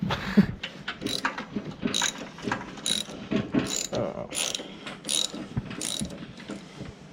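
Ratchet clicking in quick bursts while loosening the big square nut on the forks of a 1977 Vespa Rally scooter, close up, with knocks and clanks between strokes.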